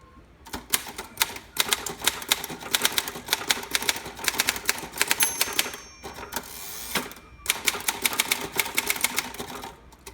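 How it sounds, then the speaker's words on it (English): Typing on a 1950 Royal KMG standard typewriter: rapid, crisp key strikes in steady bursts, with a short pause and a bell-like carriage sound near the middle, loud and close with no talking. "I don't know, the bigger the machine, sometimes the easier it is to type on. And the Royal standards, I love the way they type."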